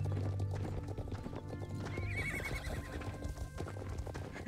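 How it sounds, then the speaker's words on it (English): Horse in a western-themed video game, with steady hoof clip-clops throughout and a high, thin whinny rising midway, all at moderate level over a faint game background. "Why does this adult horse sound like a baby horse?"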